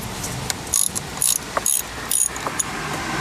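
A ratchet wrench loosens the 10 mm nut on the positive battery terminal of an Audi A3 or Volkswagen Golf, giving several short close bursts of clicking separated by brief pauses, with faint mechanical background and no talk.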